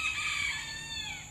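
A rooster crows once at a quiet hilltop campsite in Texas, a loud, close, drawn-out call that tapers off over about a second.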